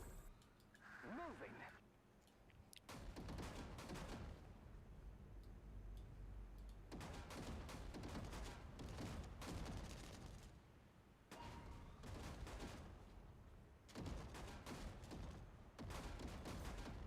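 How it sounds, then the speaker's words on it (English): Rocket launcher fire during a strategy video game match, heard as loud repeated bursts and blasts in several clusters with brief quieter gaps between them. "Incoming rocket launcher."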